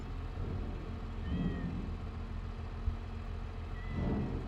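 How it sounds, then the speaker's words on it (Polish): Cats meow at a farm buying point in a farming simulation, two soft drawn-out cries spaced a few seconds apart, faint beneath a constant low engine and machinery drone. "Te koty na tym skupie mnie wykończą."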